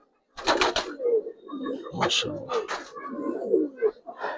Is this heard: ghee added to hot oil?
no